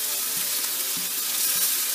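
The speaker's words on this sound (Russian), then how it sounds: "А Мясо мое жарится, вот все." Pork sizzles in a frying pan over high heat, a steady bright hiss with occasional soft pops and stirring knocks, close up and without talk.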